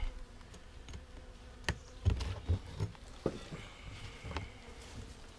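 Bees buzz in an opened overwintered hive, a faint, steady hum close by with scattered clicks and knocks of frames and hive parts, no talking.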